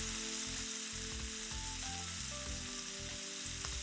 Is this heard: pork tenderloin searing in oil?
yes